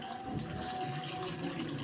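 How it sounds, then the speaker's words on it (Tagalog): Water poured from a tap or container into a pot of simmering beef offal stew, a soft steady trickle and splash, faint and continuous with no talk. "Tubigan pa natin ng konti yan."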